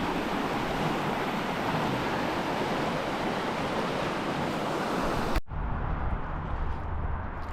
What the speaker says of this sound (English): freezing cold river